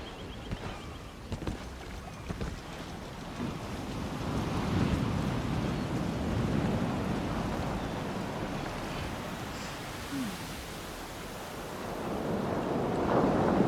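A ship setting sail on the sea in The Elder Scrolls Online, with a broad steady wash of waves and wind swelling and fading, plus faint creaks, no voices.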